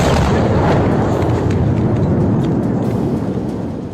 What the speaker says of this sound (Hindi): पहले छोटा धमाका सुनाई दिया, लेकिन थोड़ी देर में ही धमाके की शॉक वेव कैमरामैन तक पहुंच गई।